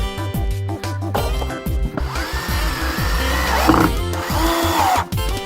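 A power drill drives a couple of screws into a homemade trailer, a loud close whirring whine that rises and falls in pitch through repeated bursts with short stops between.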